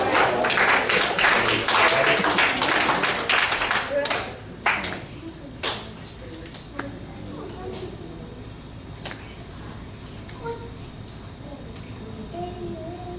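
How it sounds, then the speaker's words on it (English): A crowd claps in a burst of applause that fades after a few seconds, followed by a few scattered claps and voices. "give yourselves a round of applause"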